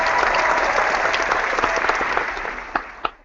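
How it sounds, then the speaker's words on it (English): Steady applause from a group, fairly loud and continuous, thinning slightly toward the end with a couple of sharper individual claps near the close. "Clap it up for me."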